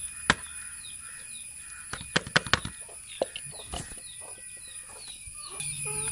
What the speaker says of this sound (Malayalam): എന്നിട്ട് ഇതുപോലെ കോഴികളെ പാത്രത്തിലേക്ക് ഇട്ട് കൊടുക്കുക.